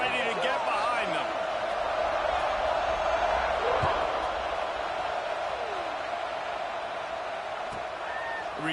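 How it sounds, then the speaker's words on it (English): A football stadium crowd waits for kickoff, making a broad, steady murmur of noise. A commentator talks clearly over it throughout. "They're set to kick it off, and this crowd now ready to get behind them."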